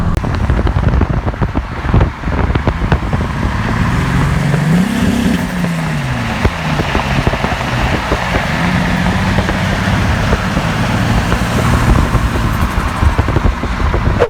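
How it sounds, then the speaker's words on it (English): Toyota Supra driven on the road, a steady engine drone with a couple of gentle rev swells under constant wind noise from the moving car, no talking. "I can't believe I'm driving it home."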